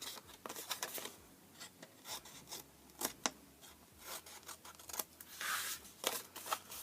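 Scissors snip away a scored piece of a paper Easter box meant for Cadbury eggs, giving a run of short crisp cuts and rustling close by, fairly quiet with uneven rhythm.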